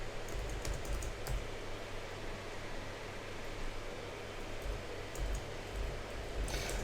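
Rapid, continuous clatter of someone hammering away at a computer keyboard, fairly quiet under a steady hiss of background noise.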